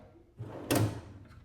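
A drawer on a Harbor Freight tool box slides open, a short scraping rumble that ends in a brief metallic clunk, heard close up and alone in a quiet room.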